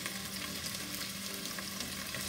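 Onions and peppers fry in a pan for a Caribbean green banana cou cou with salt cod gravy, giving a steady, close hiss and crackle with no talk over it.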